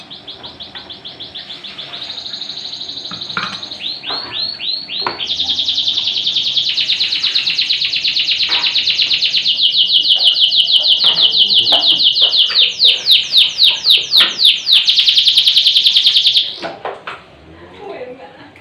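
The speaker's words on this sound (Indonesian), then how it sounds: "sambil memasak dihibur dengan suara burung" Birds sing nearly continuously, with a dense, high, trilling chorus of rapid chirps that swells and then stops abruptly near the end.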